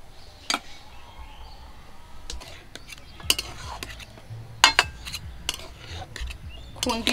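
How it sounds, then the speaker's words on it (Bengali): A metal spatula and strainer lift boiled fish roe out of the pot, making sharp clinks and scrapes at irregular intervals over a quiet background. "খুন্তিটা দিয়ে ছাঁকনিতে তুলে নিচ্ছি, শুধু ছাঁকনিটা দিয়ে তুলতেছি"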